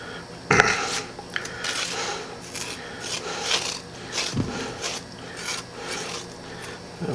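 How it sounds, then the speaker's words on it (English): A spoon scrapes the seeds out of a halved cucumber, making repeated short raspy strokes with a few sharper knocks, close and fairly quiet, with no talking. "as you scrape them out, you'll see it gushing the moisture out"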